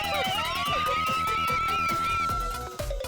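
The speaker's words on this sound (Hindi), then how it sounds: "फौरन एम्बुलेंस को बुलाओ।" A wailing emergency siren sweeps up and holds steady, loud and continuous, over busy music and sound effects in a cartoon-style scene about calling an ambulance.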